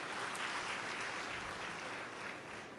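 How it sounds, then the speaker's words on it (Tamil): An audience claps steadily at a faint, distant level, a soft continuous patter of many hands with no talking. "இது உண்மையாக இருந்தால் கைத்தட்டுங்க"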